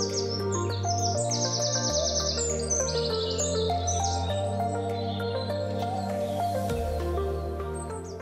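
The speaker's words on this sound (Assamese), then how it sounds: "এই ঘৰচিৰিকা চৰাই আজি প্ৰকৃতিৰ পৰা ক্ৰমাৎ হেৰাই যোৱাৰ পথত।" House sparrows chirping together, a busy chorus of bright, repeated chirps and tweets that overlap continuously, fairly close and loud, against a low steady hum.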